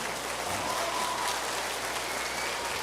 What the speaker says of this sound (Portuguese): Você pode dar um aplauso ao Senhor por essa palavra?